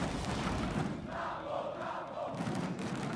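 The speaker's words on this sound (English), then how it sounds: "Listen to the crowd just cheering." A large esports arena crowd at a League of Legends Mid-Season Invitational match roars and cheers continuously, a dense wall of voices that swells slightly toward the end.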